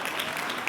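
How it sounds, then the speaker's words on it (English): An audience at a scientific conference plenary lecture clapping, a brief dense burst of many hands in a large hall, steady and even throughout. "I appreciate you clapping for him"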